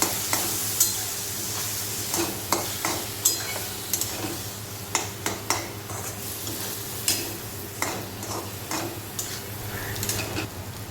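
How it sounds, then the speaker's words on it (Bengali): Turmeric and coriander paste frying in a pan, a steady sizzle broken by a regular series of spatula scrapes and knocks against the metal as the mixture is stirred. "আর হলুদ ভালো করে নাড়াচাড়া করে কষিয়ে নেব।"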